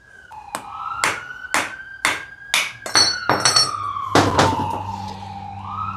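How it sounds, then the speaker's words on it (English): Sharp metallic hammer blows knocking a stuck metal die off a piece of a homemade sky hook obstacle, about a dozen ringing strikes in an uneven rhythm, close and loud, with no talk. "Let's hammer that off there."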